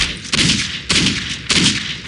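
Three loud, evenly spaced gunshots in Postal 2, each a sharp crack followed by a short ringing decay, with no voices.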